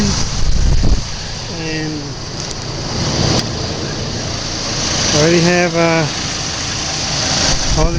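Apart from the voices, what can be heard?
Chevy Colorado engine running at idle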